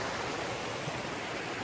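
River water flowing past, a continuous, even rush of broadband noise with no breaks, moderately loud and close, with no voices over it.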